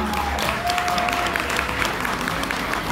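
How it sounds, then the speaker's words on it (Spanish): Audience at a live tribute concert applauds steadily, a dense burst of clapping with faint crowd noise throughout. "Un aplauso fuerte para él."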